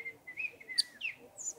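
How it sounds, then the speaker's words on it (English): California towhee, a large ground-dwelling sparrow, giving several sharp, high chink calls in desert foothill scrub, spaced irregularly and fairly close, with no other sounds over them. "These sharp chink calls are coming from a California towhee."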